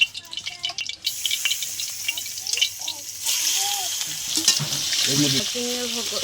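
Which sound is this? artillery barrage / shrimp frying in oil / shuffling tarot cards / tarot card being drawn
shrimp frying in oil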